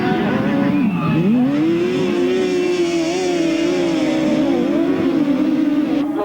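Right-hand 1000cc racing sidecars from 1998 on a circuit during the last lap, a loud sustained engine howl rising and holding at high revs with a brief dip near the start, continuous and close.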